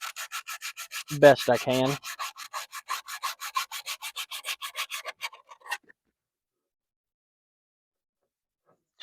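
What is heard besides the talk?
sandpaper rubbing rust off a lawnmower magnet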